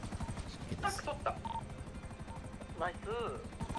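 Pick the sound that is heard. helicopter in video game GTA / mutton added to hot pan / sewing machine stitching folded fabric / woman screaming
helicopter in video game GTA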